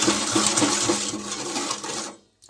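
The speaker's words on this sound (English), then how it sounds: "Give this a whisk." Sugar and oil whisked together in a bowl for a Christmas cake, a steady close-up clatter and rapid scraping rhythm that continues for about two seconds before stopping abruptly.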